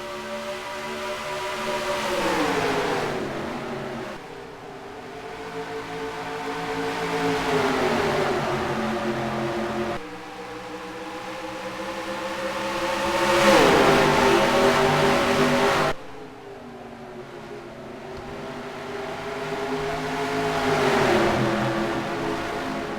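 Race trucks in the Circle K 150 truck series at ISM Raceway accelerate after the green flag, engines surging and revving in repeated waves as they pass nearby, loud and continuous with no talking.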